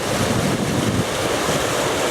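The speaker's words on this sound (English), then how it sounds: "This is the river that provides the waterfall that we saw a minute ago." The peaty Dargle river, which feeds a nearby waterfall, rushes past in a steady, loud, close-up wash of flowing water with no pauses and no voices.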